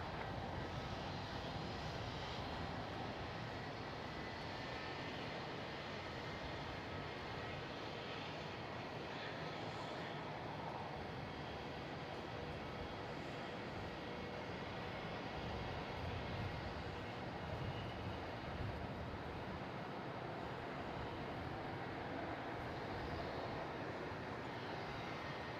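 An airliner lands on runway 27 at Melbourne Airport, a steady, broad jet roar that holds at an even level throughout with no voices.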